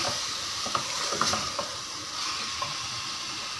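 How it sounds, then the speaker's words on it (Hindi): Boneless chicken with garlic and tomato paste sizzles steadily in a hot pan, with a few light clinks and scrapes of stirring over a continuous frying hiss. "अब हम इसकी अच्छे से भुनाई करेंगे।"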